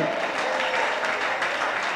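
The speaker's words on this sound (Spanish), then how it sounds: "Dele ese aplauso al Rey." A church congregation applauds during a sermon, a dense, sustained roar of clapping hands at steady volume throughout the short stretch.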